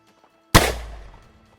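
A single loud gunshot rings out in a Wild West shootout between rival gangs, a sharp crack after near silence that decays into a trailing echo.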